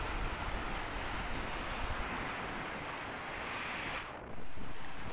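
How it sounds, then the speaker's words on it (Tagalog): Strong wind and large whitecapped waves at sea near an island make a steady, fairly distant roar of surf with windy rushing. It holds constant, with a brief dip and then a louder gust near the end. "napakalalaki ng alon, pumuputi sa sobrang lakas ng hangin."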